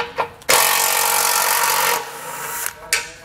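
A loud power tool whirs in a sustained burst of about a second and a half to remove 15 millimeter head bolts from a 2022 Chevrolet bumper beam, preceded and followed by short clicks and brief spurts.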